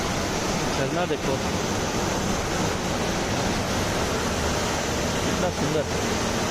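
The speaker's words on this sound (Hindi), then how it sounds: "पानी के चलने की आवाज़" Steady rushing water pours without a break, a dense, even roar from a nearby mountain waterfall on the Chopta–Chandrashila route in Uttarakhand.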